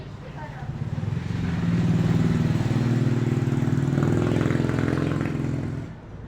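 A Milwaukee M12 FPD2 brushless cordless impact hammer drill runs steadily for about six seconds with a loud, rapid hammering buzz, then winds down at the end.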